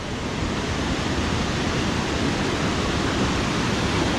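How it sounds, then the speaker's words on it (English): Waterfall on the Middle Fork Snoqualmie River roars as a loud, steady, unbroken rush of white noise, close and alone. "I had no idea this waterfall was here"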